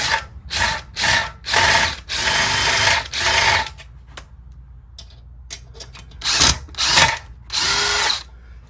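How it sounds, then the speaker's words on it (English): A power drill whirs in a series of short bursts while installing anchors for garage storage, several quick pulses then longer runs, close by with brief pauses in between. "let's get our drill out."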